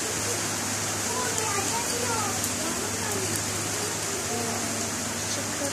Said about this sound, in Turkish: Bakın ne güzel şıkır şıkır yağıyor.